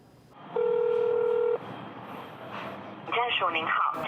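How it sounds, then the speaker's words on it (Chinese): A single steady electronic mobile phone ringtone sounds for about a second, then a voice starts talking. "电话声响起"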